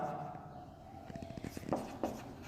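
Chalk or a marker taps and scratches across a classroom board in short, irregular strokes as a phase diagram is written, moderately quiet beneath a faint room hum.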